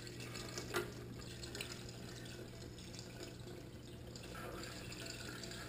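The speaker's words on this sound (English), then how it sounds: "I just want to wash everything out here." Water washes material out of a gold sluice pan during a six-inch sluice clean-up, a steady low splashing and trickling flow heard close and fairly quiet, with no talking.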